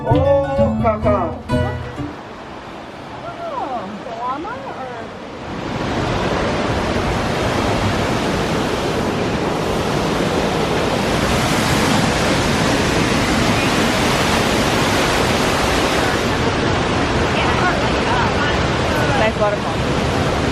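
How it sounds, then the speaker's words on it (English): A waterfall in Ecuador roars as a steady, loud broadband rush. It starts after about five seconds of quieter outdoor sound with brief voices, then continues unbroken to the end. "Pretty nice waterfall, huh?"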